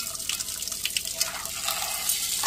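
Chopped bottle gourd stems being washed under a running tap make a gentle splashing trickle with small drips, faint and steady, with no voices.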